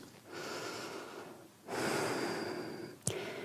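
Yoga breathing: two long audible breaths drawn in and pushed out through the nose, close and soft, followed by a short sharp sniff.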